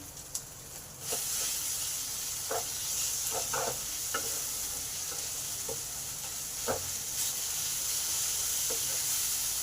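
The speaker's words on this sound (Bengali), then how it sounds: "পেঁয়াজ টমেটো ভালোভাবে ভাজা হয়ে গেছে" Onion and tomato frying in an uncovered pan for a vegetarian kakrol dish, a steady close hiss and sizzle with occasional light stirring clicks, no voices.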